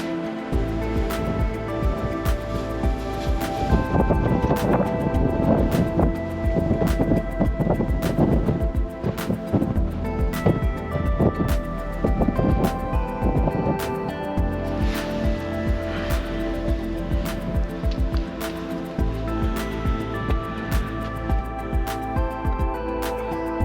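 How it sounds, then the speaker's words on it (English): Gusty wind on the summit of Mount Olympus in Roosevelt National Forest roars and buffets continuously against the microphone for a long stretch, loud and rumbling with no voices. "It is extremely windy"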